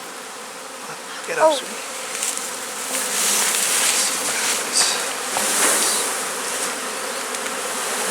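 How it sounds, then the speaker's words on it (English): Bees swarming at the bottom of a hive, a continuous close buzzing drone with individual bees passing by, and a person briefly speaks over it. "these bees will go right into this hive"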